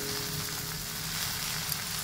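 Sugar stirred into fried elephant apple for a pickle sizzles steadily in a pan, a continuous close hiss with faint scraping and no voices.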